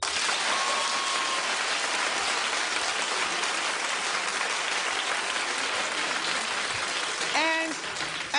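A television talk show studio audience claps steadily in a soft, rain-like patter of many hands, and a voice briefly cuts in near the end.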